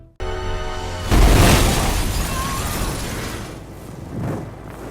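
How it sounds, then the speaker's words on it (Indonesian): A large explosion destroys a hideout in an action film, a loud sudden boom after a brief lead-in, followed by a long rumbling, crackling roar that slowly fades with a second swell near the end. "Ledakan besar pun terjadi."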